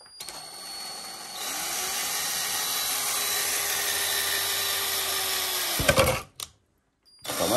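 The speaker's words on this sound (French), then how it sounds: "Et pendant ce temps, Monsieur Louis qui perce la décoration de la trappe." A power drill bores holes in a decorative hatch piece, making a loud, continuous whirring drone that holds for several seconds and then cuts off abruptly, followed by a short burst and silence.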